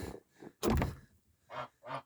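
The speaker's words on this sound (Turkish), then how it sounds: "Kazlarımız da." Geese honking outdoors in snow in a few separate bursts, one loud harsh call in the middle followed by two shorter calls, fairly close with quiet gaps between.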